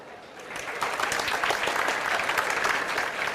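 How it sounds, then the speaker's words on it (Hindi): A classroom full of students breaks into loud, sustained applause, a dense steady clatter of many hands that swells and holds at close range. "जोरदार ताली बजा"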